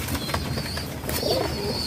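High-flying pigeons at a pigeon farm in Bangladesh give soft coos against steady outdoor background noise, with a faint rustle like wing movement.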